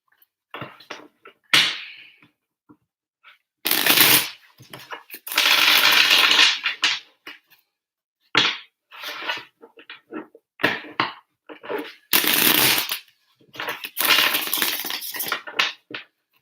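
A deck of cards is shuffled in several separate bursts of crisp riffling and flapping, close and fairly loud, separated by brief pauses and quieter handling sounds.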